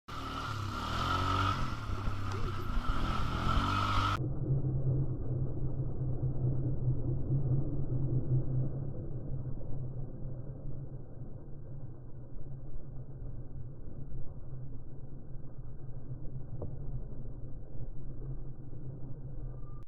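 An ATV engine drones steadily at moderate loudness on a forest trail, a continuous motor rumble with no break in its note.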